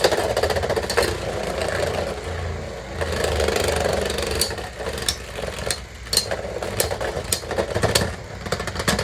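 Beyblade X spinning tops grind and clash in a stadium, a continuous whirring rattle broken by sharp clicking impacts, ending with a Cobalt Dragoon spin finish, heard close and fairly loud.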